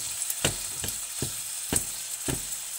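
A sardine omelette mixture frying in a pan sizzles steadily while a utensil stirs and scrapes it in five or six regular, close strokes.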